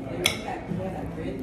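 A single sharp clink of cutlery against a plate while cutting up crab cakes, close and brief, followed by faint scraping under quiet background murmur.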